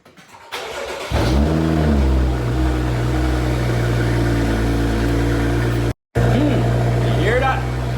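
A BMW X5 engine with its exhaust valves open starts up and revs, a loud deep roar settling into a rumbling idle, with a brief cutout and some background voices over the engine.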